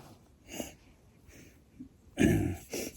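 A person camping on an Appalachian Trail thru-hike, with running sinuses, gives a few rough coughs, one brief at first and then a louder burst of two near the end, close and alone.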